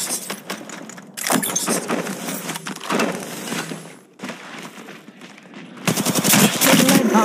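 Bursts of rapid automatic gunfire in the mobile shooter Apex Legends Mobile, several sustained volleys separated by short pauses, loud and close.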